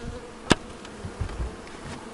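A faint, steady bee buzz hums in the background during a beehive extraction, with a sharp knock near the start and a few soft thuds afterward.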